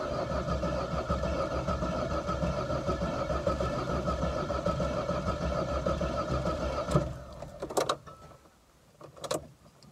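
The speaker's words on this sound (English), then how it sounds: "So let's try jump starting it off another one." Car engine cranking over repeatedly during a jump start attempt on a vehicle with a suspected failed fuel pump, a steady churning drone that breaks off near the end into a few short bursts and quieter gaps.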